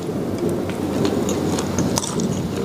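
Crunchy deep-fried otak-otak fish cake being chewed close to the microphone during a spicy kwetiau seblak mukbang, a dense, steady crackle of bites and crunches without pause.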